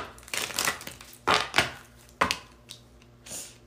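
Crisp riffling and slapping bursts of cards being shuffled, several quick rounds with short pauses between, close and fairly loud.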